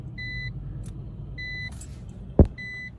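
Seatbelt warning chime in a Citroen C1 city car, repeating pairs of clear electronic beeps over a low engine idle, with a brief thump near the end.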